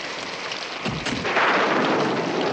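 Rain falls outdoors at night as a steady, dense hiss that swells louder partway through, with a low rumble underneath and no voices.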